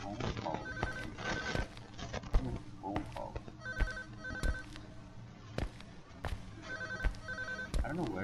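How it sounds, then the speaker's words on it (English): A telephone rings repeatedly with an electronic bell tone in the horror video game Unspoken, a steady series of rings over game music and ambience, with some talking around it. "There's a phone call."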